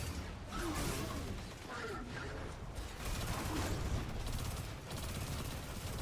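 Gunfire in the video game Destiny 2, dense repeated shooting and impacts against a shield, sustained and busy across several seconds with bright crackling bursts.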